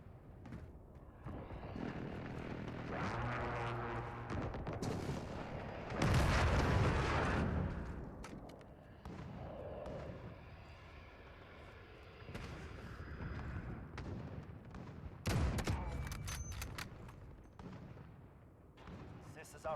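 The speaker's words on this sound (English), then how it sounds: "Allied precision airstrike incoming." Allied precision airstrike explosions in Modern Warfare beta multiplayer, with heavy booming blasts and gunfire crackle rising and falling, loudest in a big burst midway and again near the end, with voices over the battle.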